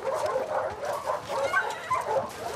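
German Shepherd dogs in The Last of Us Part II giving repeated yips and whimpering barks, a dense run of overlapping canine calls at moderate level with no talk.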